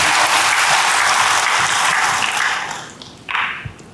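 A church congregation gives loud, dense applause that holds steady, then fades out before a short final burst of clapping.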